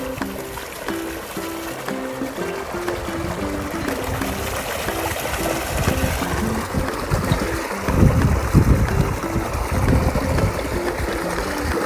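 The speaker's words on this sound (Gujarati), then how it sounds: "જો ગાઈસ ખેતરમાં પાણી જાય છે." Irrigation water runs steadily into a farm field where tobacco is grown, a continuous close rushing and trickling flow that swells louder for the last few seconds.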